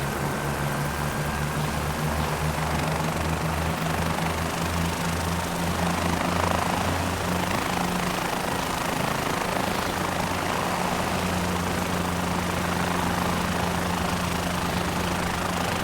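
Steady engine drone of an aircraft idling before take-off at Burnvelt Airport in a flight simulator game, a continuous loud hum with low tonal bands that shift slightly midway, alone without talk.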